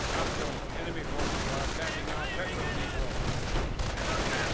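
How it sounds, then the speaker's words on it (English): Grenade blasts and rapid gunfire from a World War II-style strategy game battle, with panzers and artillery strikes, crackle densely and continuously at steady loudness, overlapping with one another throughout. "Grenades going off"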